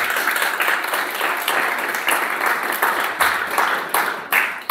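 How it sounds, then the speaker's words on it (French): A church congregation applauds at a French-language service, a steady, dense wash of clapping from many hands that carries on without a break, with faint voices mixed in. "Acclamons la parole du Seigneur."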